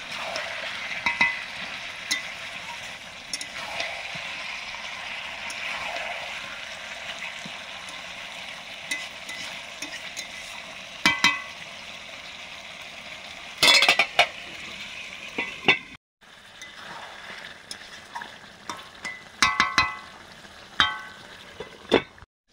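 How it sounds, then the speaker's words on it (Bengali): Chicken meat sautés in a pan with a constant sizzle. A spatula stirs and scrapes it in repeated clattering bursts, with one short break before the stirring carries on. "মাংসটা কষানো চলছে।"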